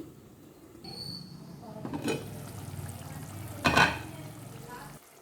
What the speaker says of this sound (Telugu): మరలా ఉడికించుకుందాము సిమ్లోనే పెట్టుకుని